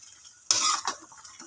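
Spoon stirring a boiling pork dish in a pot, a sudden scraping swirl against the metal with bubbling beneath, followed by a couple of softer clinks.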